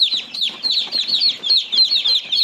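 Chicks peeping in a coop holding about 150 young chicks, a dense rapid chorus of high, overlapping peeps close by and fairly loud, with no talking.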